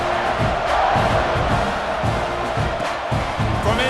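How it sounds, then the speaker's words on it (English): A stadium crowd roars in a college football video game dynasty featuring Texas, a loud, dense, sustained wall of cheering with no break for the full stretch. "this crowd now ready to get behind them"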